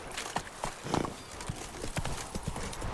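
Hooves of Roach, a horse in The Witcher 3: Blood and Wine, clip-clopping in a steady brisk rhythm with a possible short whinny, close and fairly loud over game ambience.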